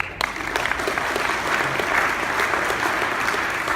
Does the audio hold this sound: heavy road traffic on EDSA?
no